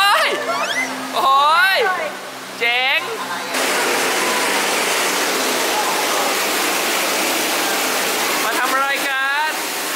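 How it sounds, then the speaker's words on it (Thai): A waterfall at a water park gives a steady, fairly loud rush of falling water through the middle stretch, with excited high-pitched voices talking before and after. "โอ้ยน้ำตก"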